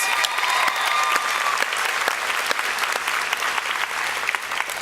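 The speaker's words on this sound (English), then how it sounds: "Will you please give these nominees a round of applause?" Sustained audience applause fills a nursing pinning ceremony hall, steady dense clapping from a large crowd lasting the whole stretch with no talk over it.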